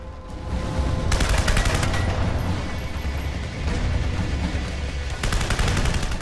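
Sustained bursts of rapid rifle fire from the Terminator Salvation video game, loud and dense, with repeated automatic volleys and heavy booming impacts layered together throughout.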